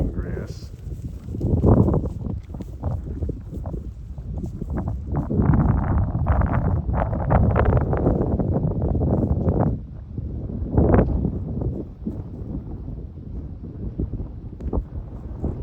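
Wind gusting across an outdoor farm setting, buffeting the microphone in rough, rumbling bursts throughout, with people talking under it.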